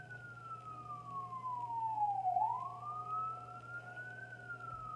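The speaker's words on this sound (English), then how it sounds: "the sirens going off" An emergency vehicle siren wails past at moderate distance, its tone sweeping down then back up over a steady low rumble of background traffic, with no talking.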